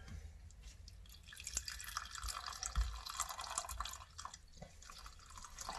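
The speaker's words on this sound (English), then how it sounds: "I'm pouring the majority of my jug in." Liquid pours from a jug into a baking mix in a home kitchen, a steady trickling, splashing stream that runs continuously at close range without any talk.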